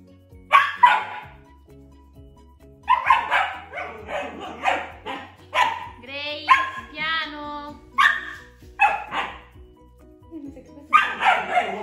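A dog barks repeatedly in short bursts, close by, with yips and brief whines between the barks.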